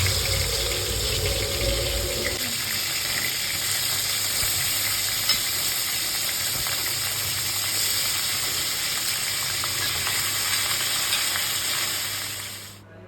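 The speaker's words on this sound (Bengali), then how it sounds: "আমি কিছুক্ষণ যাবত কিন্তু মাংসটাকে সুন্দর করে ভেজে নিচ্ছি গরম তেলে।" Chicken pieces frying in hot oil for a spicy Bengali-style country chicken curry, a steady loud sizzle filling the whole stretch, with a brief low stirring or scraping sound near the start and no talking.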